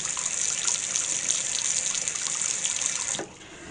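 Hot water pours steadily from a tap in a flat, a close, loud hissing gush that stops abruptly near the end.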